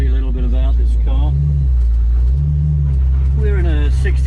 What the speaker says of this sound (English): So let's take it down the road and see how it goes. We'll just pull out of here